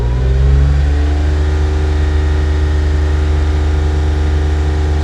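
An old Porsche engine held at steady revs around 3,000 rpm, a loud, close, sustained harmonic drone with a brief rise at the start and no voices.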